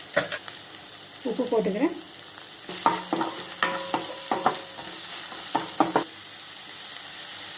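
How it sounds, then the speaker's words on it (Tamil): Chopped large onions stirred and sautéing in a pan for mango noodles: a soft frying hiss with scraping stirs in short bursts. A voice speaks briefly over the cooking. "இதெல்லாம் போட்டு நல்லா வணக்கிக்கணும்"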